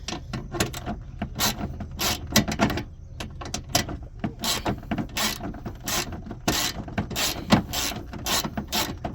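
Wrench ratcheting and clanking against a bolt on a small-block Mopar engine in a junkyard, a rapid run of sharp metallic clicks and knocks in uneven bursts, close up, with no talking.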